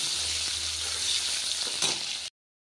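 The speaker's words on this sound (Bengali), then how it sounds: "এখন টমেটোটা, কাঁচা লঙ্কাটা দিয়ে দিলাম তেলের উপরে, তো নেড়ে চেড়ে নিয়ে ভালো করে" Tomato and green chili sizzle steadily in hot oil, a close, even frying hiss that holds for a couple of seconds and then cuts off abruptly.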